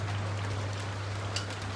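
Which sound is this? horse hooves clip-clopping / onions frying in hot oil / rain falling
rain falling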